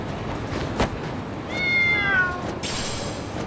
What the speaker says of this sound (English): Oh, there's the cat.